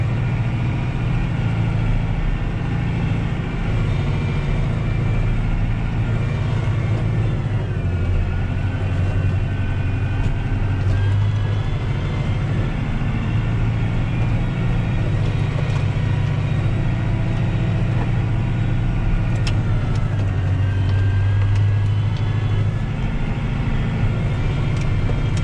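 A Massey Ferguson 5440 tractor pushes through deep snow on a village road without chains, its engine a steady, close low drone that holds evenly throughout with no talk.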